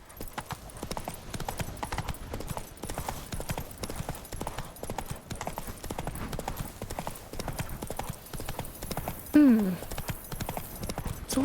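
Horse hooves clip-clop in a steady trotting rhythm as a rider travels in The Witcher 3, continuous and moderately loud, with a brief whinny-like sweep near the end.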